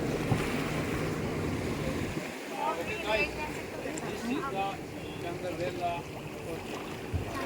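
A boat travels across the open sea, with a steady wash of waves and wind rushing around it and faint voices buried in the noise.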